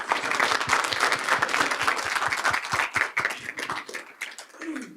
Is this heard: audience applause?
yes